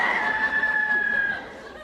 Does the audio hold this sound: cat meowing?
no